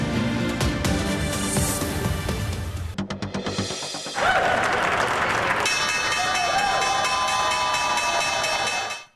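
An audience clapping, with the loud, dense applause continuing for several seconds and then cutting off abruptly, and a break in the middle where other noise intrudes.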